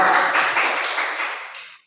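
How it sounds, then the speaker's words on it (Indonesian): A classroom audience claps for a student group that has just finished presenting, a dense burst of many hands that stays steady and close, then thins out and stops near the end. "Tepuk tangan dulu untuk saudara Hamka dan kelompok"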